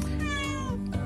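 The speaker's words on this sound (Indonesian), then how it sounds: "ada suara kucing saya ya, maaf ya" A pet cat meows close by, one drawn-out, loud call that fills the brief moment, with no one talking.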